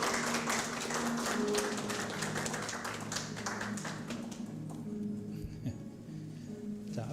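A small audience at a Korean health-care professionals' day ceremony claps after an award citation, with crisp clapping that thins out partway through, leaving a quieter room.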